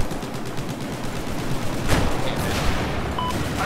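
Gunfire in the Battlefield 4 video game on the Flood Zone map, heard as a dense, steady wash of rapid shots and explosions with a louder crack near the middle.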